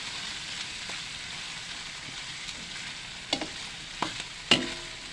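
Bottle gourd and other vegetables sauté in a pan at home, a soft continuous sizzle with a few sharp clacks of a utensil scraping and stirring toward the end. Close and fairly quiet, with no one speaking.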